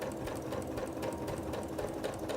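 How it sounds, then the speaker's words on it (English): A sewing machine stitches down a length of fabric with a fast, steady mechanical whir and rhythmic needle clatter, continuous and close. "I'm going to sew all the way down to the bottom"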